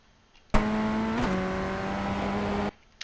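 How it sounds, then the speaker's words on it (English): A Ray FF1600 open-wheel race car in iRacing at Brands Hatch accelerates with a loud, steady engine drone, one shift dropping the pitch briefly before it keeps pulling, with no talk. "And then just picking up the throttle, shifting up into third for a short time."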